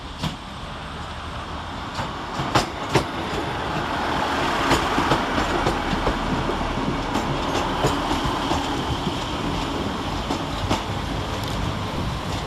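A Class 150 diesel unit rolls in on the near platform at Manchester Piccadilly station on a working from Manchester Airport to Chester, a steady rumbling drone with faint clicks and station ambience throughout, no voices.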